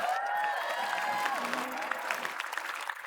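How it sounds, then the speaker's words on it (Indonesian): A studio audience on an Indonesian comedy talent show applauds a mentor, with a brief wash of clapping and light cheers. Music tones run through it, and the sound fades toward the end. "tepuk tangan untuk Kang Diki Chandra"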